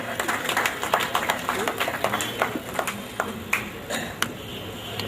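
Audience applause at a Punjabi comedy poetry gathering in Amritsar, a steady patter of clapping with sharp individual claps over a murmuring crowd, moderately loud and sustained throughout.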